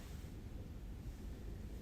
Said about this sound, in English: it is really windy and